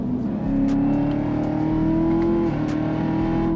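A Chevrolet Camaro ZL1's engine revs hard and accelerates, a loud sustained roar with steady rising tone and a brief dip midway, close by and alone.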